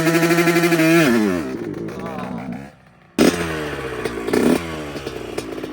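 A 2004 Yamaha YZ125 two-stroke dirt bike revs hard and loud up close, the pitch climbing then dropping away, cutting out briefly before roaring back to wide-open throttle.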